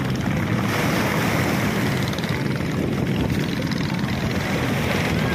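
Ocean waves at a swimming spot in Lobo make a steady, dense wash of surf that holds at the same level throughout, with no talking.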